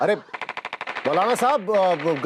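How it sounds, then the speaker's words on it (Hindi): A rapid burst of about ten sharp gunshots in quick succession, like a toy or real gun being fired, after which a voice starts speaking loudly over it. "मुझे शायद अभी गोली चलने की आवाज सुनाई दी।"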